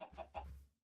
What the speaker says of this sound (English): That chicken is ruining the farm.